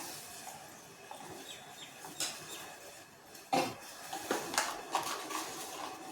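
Ladle stirring thick urad dal kali dough in a pot, Chettinad style: faint, irregular scrapes and knocks against the pot, a few sharper clunks near the end, no one talking.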